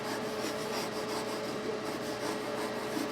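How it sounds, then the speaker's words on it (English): A fret eraser is rubbed steadily over the frets of an Ibanez Prestige seven-string guitar, giving a continuous close gritty scrubbing with faint rhythmic back-and-forth strokes. "a little bit of fret eraser action here"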